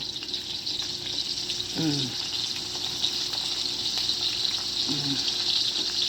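A hotdog fries in a pan with steady hissing sizzle, probably Filipino home cooking in Japan, running continuously throughout. Two brief voiced sounds cut in near the start and end.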